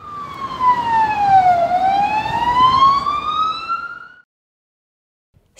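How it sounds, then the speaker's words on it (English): A police car siren wails loudly and close by in one long falling-then-rising sweep lasting about four seconds, then cuts off to silence. "Police cars have a siren and warning lights that flash to show they're chasing criminals or rushing to a crash."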